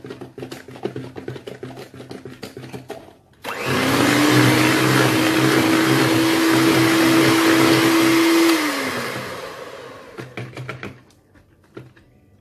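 An electric mixer whirs loudly and steadily through cake batter for about five seconds, its motor pitch holding level before winding down, with light clatter before and after.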